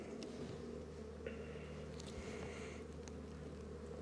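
Honey bees swarming over an open hive frame during an inspection, a quiet continuous hum and drone with faint scattered buzzes drifting over a low background.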